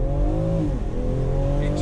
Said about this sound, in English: One more acceleration up here.